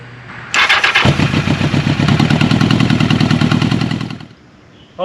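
A Yamaha XJ1100 Maxim motorcycle engine cranks and fires up, then settles into a loud, rapid, steady idle close by before cutting off near the end.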